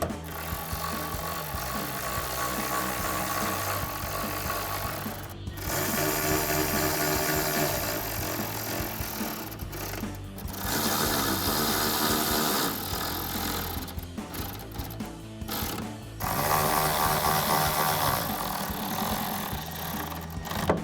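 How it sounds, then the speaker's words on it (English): A 4mm Allen socket on a power driver tightening bolts on a Rough Country hard tri-fold tonneau cover for a Toyota Tundra, heard as sustained whirring, buzzing runs broken by short pauses, loud and close. "take a 4mm Allen socket and tighten all of these down"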